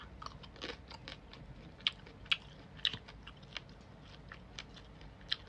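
Close, crisp chewing of crispy fried sago worms mixed into a rice noodle salad, with repeated crunchy bites and sharp clicks in an irregular rhythm, no talking.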